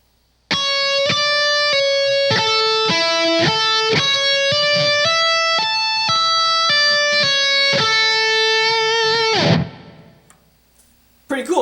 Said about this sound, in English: this whole little sweep picking passage I just showed you should sound like this when played slowly.